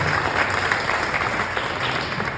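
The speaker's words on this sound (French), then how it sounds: "On peut l'applaudir." An audience at a memorial tribute ceremony breaks into steady, dense applause, a continuous wash of many hands clapping that holds at an even level throughout, with no speech over it.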